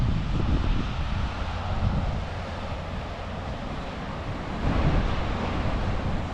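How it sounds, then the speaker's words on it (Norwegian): Strong wind gusts roar steadily across an open seashore during summer sea trout fishing, with deep rumbling buffets on the microphone and a surf-like wash that rises and falls throughout, with no voices. "Jeg vet ikke om dere hører meg, men det blåser ganske kraftig her."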